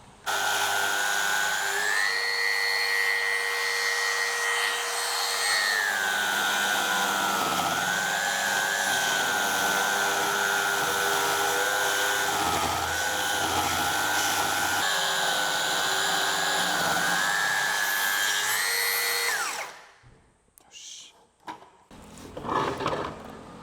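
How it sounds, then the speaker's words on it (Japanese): A large circular saw cuts through thick pine with heavy reaction wood, its motor whining loud and steady for about twenty seconds before spinning down, followed by a few knocks and shuffling. "疲れるよなこのでかい丸のこ。"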